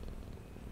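Soft, low rumbling cat purr from the video game FNAF Into the Pit, set in Oswald's house, steady and continuous for under a second with no talking.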